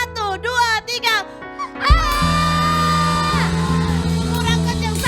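Children at a Sunday school event shout together at full volume after a count, a loud group yell that swells and holds as a sustained crowd of young voices, preceded by an adult's speech.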